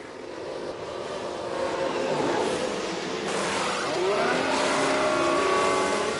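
Formula 1 cars, among them a Ferrari, drive into the pits in the F1 Manager 23 game at Melbourne, a steady engine whine that swells and shifts pitch as the cars pass.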